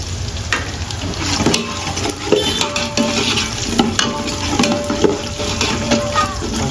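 Cumin and mustard seeds crackle and sizzle in hot oil for a dal fry tadka, a busy close frying hiss with scattered pops, utensil clinks and stirring scrapes.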